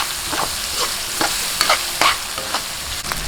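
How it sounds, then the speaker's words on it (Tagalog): Chopped tomatoes sauté in a pan for pork binagoongan, with a steady sizzle broken by repeated scraping strokes of a spatula stirring the mixture, close and fairly loud. "Kamatis. Gisa-gisa lang."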